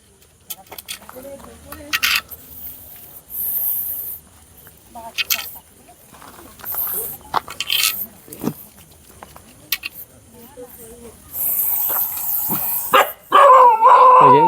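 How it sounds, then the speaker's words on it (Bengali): A dog barks in fear at a Russell's viper, giving sharp, scattered bursts of barking and yelping with quiet gaps between them, while a person talks at times. "কুকুরটা ভয়ে চেল্লাচ্ছে"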